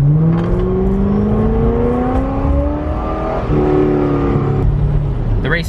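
A C6 Corvette with a four-speed automatic accelerates hard in first gear, its engine note climbing steadily in pitch, dropping at a shift, then rising again, loud and close from inside the car with talk over it.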